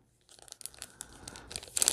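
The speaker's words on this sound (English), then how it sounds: "And it comes with this nice little plastic bag." A small plastic bag from a Joann craft-store haul is handled up close, giving soft crinkling and rustling that builds into louder crumpling bursts near the end.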